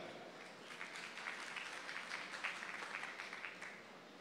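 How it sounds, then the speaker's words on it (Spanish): Soft, steady clapping from an audience at a business pitch event welcomes a speaker to the stage, a continuous patter heard at a distance. "un fuerte aplauso, nos viene a hablar de control social."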